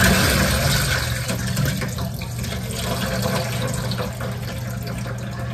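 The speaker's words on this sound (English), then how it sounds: "So I'm gonna throw out the water." Water is tipped out of baby bottles into a sink, a steady splashing pour that keeps going for several seconds at close range, with no talking.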